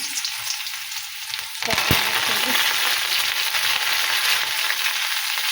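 Garlic, cumin and mustard seeds frying in hot oil in a kadai, with a soft sizzle that jumps to a loud, dense crackle as they hit the oil and then stays steady and close.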